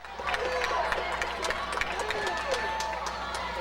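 Gym crowd at a Minneapolis vs Halstead Kansas high school boys basketball game reacts to a foul call, a steady roar of voices and shouts with sneaker squeaks poking through, fairly loud and continuous.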